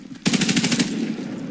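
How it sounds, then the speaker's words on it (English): Rapid automatic gunfire in the video game Warface bursts out as a loud, close string of about ten fast shots, then rings away. "People shooting."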